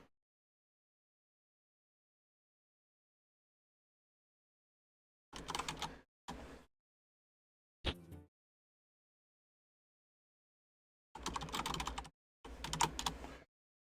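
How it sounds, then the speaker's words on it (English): Short bursts of computer keyboard typing come in separate clusters during a live gaming broadcast, crisp and close, with long silent gaps between them and no talk. "Sorry for those who can hear my typing to the players"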